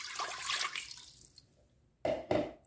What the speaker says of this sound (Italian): all'interno della pentola mettete l'acqua